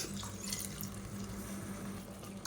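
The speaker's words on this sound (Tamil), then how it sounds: "இப்போ மிக்சியை அலசிட்டு கொஞ்சமாக தண்ணி சேர்த்துக்கலாம்." Steady running water with a splashy, trickling texture, poured into a mixer-grinder jar, continuing without pause and fairly quiet.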